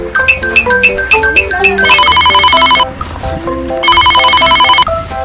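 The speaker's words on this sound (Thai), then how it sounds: "อุ๊ยโทรศัพท์ดัง" A mobile phone ringtone rings loudly in two bursts of bright melodic electronic tones, the first a rising run of notes, with quiet background sound between them at a petrol station convenience stop.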